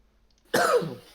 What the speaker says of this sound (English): I'll just be basically, coughing in the background.